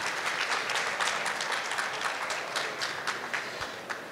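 An event audience at an international Afro-descendant fair applauds steadily, a dense wash of clapping that holds at full strength for the whole stretch with no voices over it.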